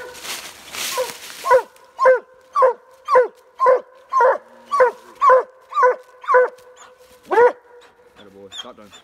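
Coonhound baying at a treed raccoon during a night hunt in Kentucky, a run of about a dozen evenly spaced, loud drawn-out barks close by, with brief rustling before and after.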